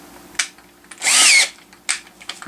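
An electric hand drill runs in one loud burst of about half a second while loosening a left-handed-thread chuck, with shorter clicks and handling noises before and after.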